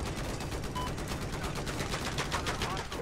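Sustained automatic gunfire from Battlefield 4 vehicle warfare combat, a dense continuous rattle of shots filling the whole stretch without pause.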